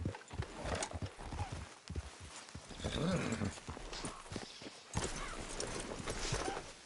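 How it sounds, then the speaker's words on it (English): Horses in Red Dead Redemption 2 online walk off a road with a loose, uneven hoof rhythm and an occasional neigh, set against dense outdoor game ambience. "let's leave the horses off the road to the right here."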